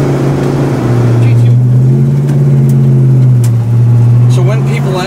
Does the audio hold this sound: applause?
no